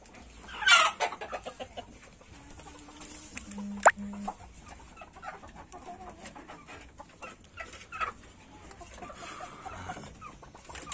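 Native village chickens cluck and murmur around a farmyard, with a few louder squawks rising over a low, steady background.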